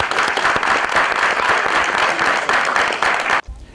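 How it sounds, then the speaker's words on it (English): A studio audience at a mental-arithmetic quiz show applauds a contestant, loud dense clapping sustained for about three seconds before cutting off abruptly. "Let's welcome our first contestant from Techiman with a round of applause."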